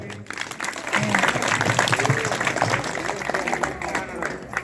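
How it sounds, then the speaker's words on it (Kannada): A crowd claps loudly and steadily at a Kannada religious discourse on the Kalburgi Sharana Basaveshwara Purana, a dense wash of applause filling the whole stretch. "ಒಂದೊಂದು ಜೋರ ಚಪ್ಪಾಳೆ ತೊಟ್ರಿ"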